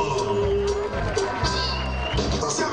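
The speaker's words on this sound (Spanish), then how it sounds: "¡Fuerte el aplauso!" A crowd at a bull-riding event cheers and applauds, a steady murmur of noise with occasional whoops, mixed with a voice and tonal background sound throughout.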